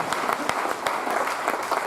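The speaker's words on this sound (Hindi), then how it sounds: "इनके लिए जोटा तालियां बजाए" A roomful of people applauds at a business talk, dense continuous clapping with a few crisp standout claps, close and fairly loud with no voices over it.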